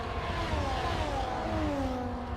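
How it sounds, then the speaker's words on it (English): A Formula 1 car races past at over 200 mph during qualifying at Interlagos, São Paulo, its engine a steady high whine that slides downward in pitch as it passes, loud over broad track noise. "Sound of the car past 200 miles per hour"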